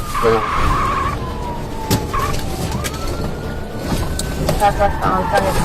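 A Dodge Charger fleeing police at a Texas truck stop skids its tires, making loud, wavering squeals over a steady roar of engine and road noise, with voices faintly present.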